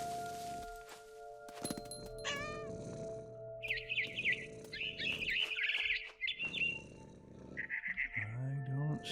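Bird chirps in the video game What Remains of Edith Finch, bursts of high tweets scattered over game sounds, with a person talking in between.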